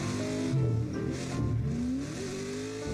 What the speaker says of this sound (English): He even blipped the throttle and then came back on throttle.